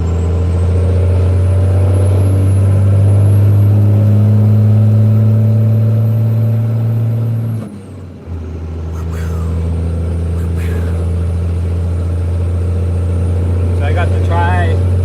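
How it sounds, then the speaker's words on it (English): A truck engine hauling a triple-axle trailer drones steadily, then dips briefly as it shifts gears and resumes its low hum, with a faint whine and brief hiss in the background. "We can shift through all the gears."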